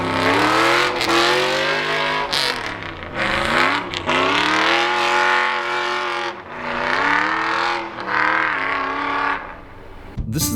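A lightweight Land Rover on Icelandic snow tires drives a trail with its differentials dragging, the engine droning and rising and falling in pitch through repeated revs, loud and close with no talking over it.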